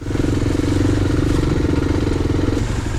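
A motorcycle labors up a forest trail, its engine chugging loud and close with a steady, clattery pulse throughout.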